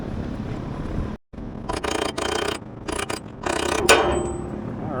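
Ratchet working the bolts loose on a mower blade, close mechanical clicking in short bursts broken by gaps and a brief silence, with a faint whine near the end.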